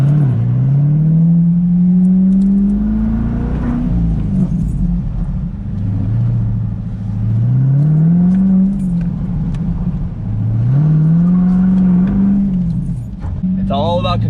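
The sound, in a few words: Corvette C8 exhaust revving, deep low rumble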